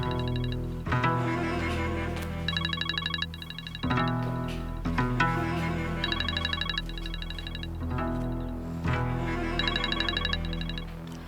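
Phone ringing on an outgoing call, a repeated electronic ringback melody in regular bursts of rapid warbling tones, loud and close with no talking.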